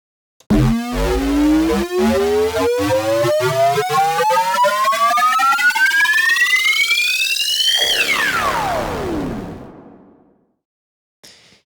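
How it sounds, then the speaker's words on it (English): A loud LFO riser made in Sytrus sweeps steadily upward in pitch with a pulsing, wobbling modulation for about seven seconds, then drops off and fades, followed by a short blip. "how to make this cool sound, or cool riser actually, and it sounds like this"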